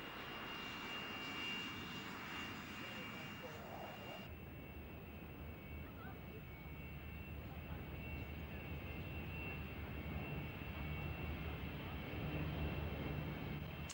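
RAF aircraft in a station flypast at the Finningley Air Show, 1991: a sustained droning engine roar across the whole stretch, steady and moderately distant, swelling slightly toward the end, with faint crowd or background noise.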